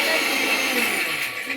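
A kitchen mixer grinder whirs steadily as it grinds roasted biryani spices, a loud, close, continuous motor drone with no talk over it.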